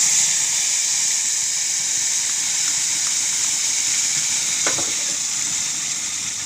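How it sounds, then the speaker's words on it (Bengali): Ground pointed gourd and garlic paste fries loudly in oil tempered with nigella seeds, a steady dense sizzle with a few faint stirring clicks and one sharper scrape near the end, no voices. "এখন মিক্সচারটা ঢেলে দিব আর নেড়ে নিব।"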